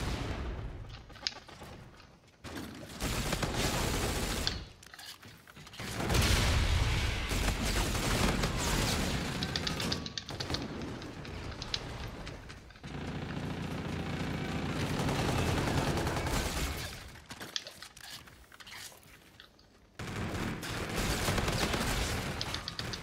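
Pistol fire in a Call of Duty: Infinite Warfare match, sharp shots rattling in dense, loud bursts with brief pauses between volleys, layered over continuous game action noise.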